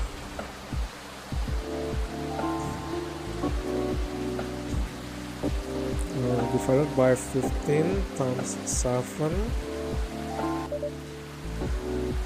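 Steady rain falls in the Coffee Talk game, a soft constant patter running beneath a voice speaking and layered musical tones throughout.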